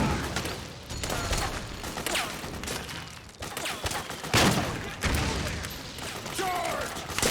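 Gunfire from a light machine gun in Metal Gear Solid 4: Guns of the Patriots on PS3, sounding as a dense, sustained fusillade of rapid bursts across the clip, with loud impacts and battlefield clatter mixed with game voices.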